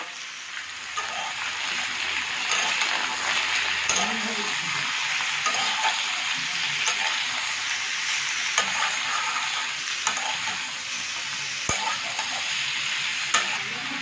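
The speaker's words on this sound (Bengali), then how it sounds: "এবার লাউটা দিয়ে দেওয়া হচ্ছে, লাউ আর আলুটা দিয়ে দেওয়া হচ্ছে, মশলার সাথে ভালোভাবে এটা কষাতে হবে।" Bottle gourd and potato sautéing with spices in a pan, a constant close sizzle with occasional stirring scrapes and a few sharp clicks.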